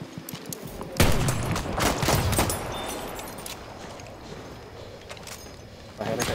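Rapid gunfire bursts in the Battlefield 1 video game, loud close shots and sharp cracks crowding the first seconds, then thinning to sporadic reports under a low rumble, with a player talking over it.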